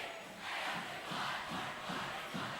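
Rowdy home crowd at a varsity boys high school basketball game, Frederick at Mead, a loud sustained roar of shouting and cheering that swells in rhythmic waves, with no distinct voices standing out.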